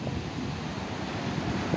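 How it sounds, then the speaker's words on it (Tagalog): Big waves and strong wind after a typhoon at the Tanza shore, a steady roaring wash with gusting wind noise across the microphone, continuous and moderately loud with no voices. "Lalaki ng alon."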